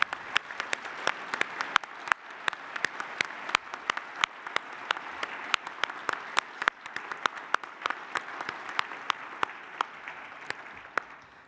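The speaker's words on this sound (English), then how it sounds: "I think we should give him a bigger applause at the beginning already" Audience applause for an award recipient at a radiological protection lecture, a steady spread of clapping from a modest crowd with sharper individual claps standing out throughout, fairly even in level.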